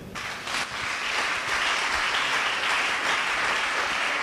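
A church congregation claps loudly together in sustained, dense applause, acclaiming the Lord, steady from start to finish with no voices on top.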